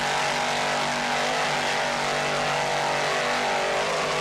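Offshore racing powerboat, a 33-foot Power Play with twin 550 horsepower Frank Marine inboard engines, droning steadily at high speed and close by, with a sustained roar and no talk.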